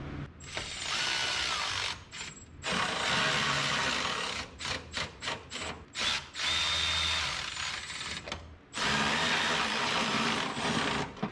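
Power driver running screws in during a fan installation, repeated bursts of whirring motor with short pulses and pauses between them, close and fairly loud.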